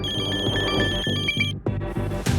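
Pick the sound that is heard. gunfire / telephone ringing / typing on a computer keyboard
telephone ringing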